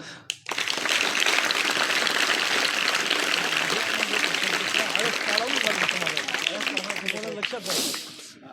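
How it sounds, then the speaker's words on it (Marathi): Audience at a poetry book release event clapping loudly and continuously for about eight seconds, a dense wash of hand claps with some voices mixed in. "एकदा खूप मोठ्या टाळ्या वाजवा"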